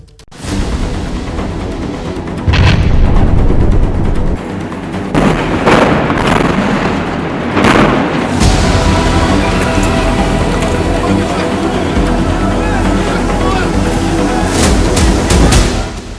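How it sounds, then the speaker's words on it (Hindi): Heavy booming blasts from Israeli bombing strikes on Hamas, with loud thuds and rumbling bursts recurring in a dense, continuous din of explosions throughout. "इजराइल के बम हमास पर मौत बनकर बरस रहे हैं।"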